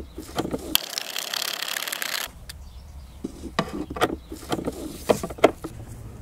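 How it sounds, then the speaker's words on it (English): A bolt being tightened by hand in the engine bay of a 1999–2007 Skoda Fabia MK1, heard as close, irregular metallic clicks and ratchet-like ticks after a brief burst of broadband noise. "And secure the bolt."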